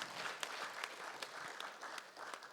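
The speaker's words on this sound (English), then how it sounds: "Can you please give them another round of applause?" Applause from a lecture audience at an NSE event, a steady dense patter of many hands clapping with scattered sharper claps, fairly quiet and slightly distant, with no talking over it.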